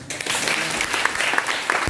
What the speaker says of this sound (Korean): 우리 박수 좀 보내주세요